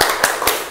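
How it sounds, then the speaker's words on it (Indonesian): Classroom of students doing a rhythmic spirit clap, three sharp unison claps evenly spaced in quick succession, loud and close with no talk. "Lagi tepuk semangat."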